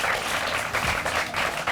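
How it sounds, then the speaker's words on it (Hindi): A village audience at a game show event in Nai Basti, Bulandshahr, Uttar Pradesh, claps to welcome a participant, a short dense roll of applause at steady loudness. "जोरदार तालियों के साथ इनका स्वागत हो जाए"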